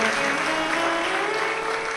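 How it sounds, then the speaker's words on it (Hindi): Loud, dense clapping from a large audience at a live Shiv Mahapuran religious discourse in Sehore, sustained evenly throughout with no pauses, with faint tonal sound beneath the applause. "एक बार जोरदार ताली बजाकर सभी को साधुवाद"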